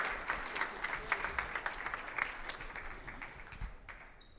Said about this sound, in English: Also, big round of applause.